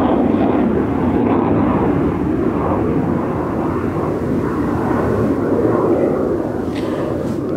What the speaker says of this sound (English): So no worries, the F-16s are still flying.